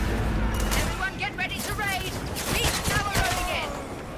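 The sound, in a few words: SMG gunfire from a video game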